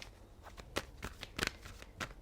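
Tarot deck shuffled close up in a quiet room, several quick papery riffles and slaps in a steady rhythm, soft and without talk.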